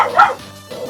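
A pet dog guarding the home barks sharply at someone walking a dog outside, giving one loud close bow-wow followed by a softer trailing whimper.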